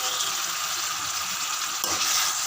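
Washed chicken pieces hit hot oil and masala, frying with a steady, close, loud sizzle and brief stirring scrapes throughout; no one speaks.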